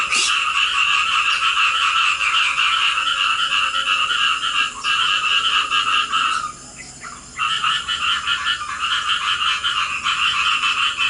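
Loud, continuous frog chorus at night in Borneo with overlapping croaks, briefly dipping quieter partway through before resuming at full strength.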